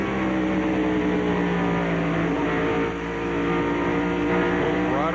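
NASCAR Winston Cup stock cars race at Bristol in 1995 during a night race, their engines a loud, sustained high-revving roar heard from a roof-mounted camera on Dale Earnhardt's car, with the pitch shifting slightly through the corner.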